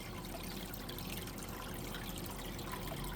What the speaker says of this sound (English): it still pumps out quite a bit of the water